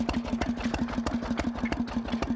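A steam engine runs steadily, its regular beat pulsing about five to six times a second as it drives a small domestic water pump, close and fairly loud with no talk over it.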